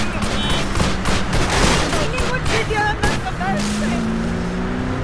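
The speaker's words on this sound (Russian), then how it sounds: "Я хочу сделать точный выстрел!" Rapid bursts of gunfire crackle over a loud, constant engine roar, with shouting voices mixed in, during a car chase in the video game Wheelman.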